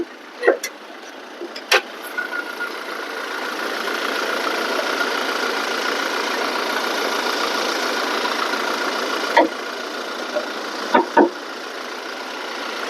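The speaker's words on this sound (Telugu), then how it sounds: "ఇంజన్ కూడా చూద్దాం. ఇంజన్ సైలెంట్ ఉంది." A Toyota car engine with about 224,000 km on it idles steadily and fairly quietly under the open hood, a continuous even hum with a few sharp clicks and knocks scattered over the top.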